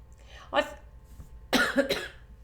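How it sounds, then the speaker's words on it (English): A single short cough near the microphone, followed a moment later by a louder, rougher burst of coughing or throat clearing. "Cough."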